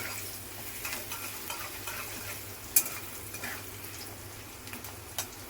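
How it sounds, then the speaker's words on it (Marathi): Onion sautés in a pan with a faint, steady sizzle, marked by occasional soft stirring scrapes and a sharp clink or two against the pan. "बघा, कांदा परतला आहे।"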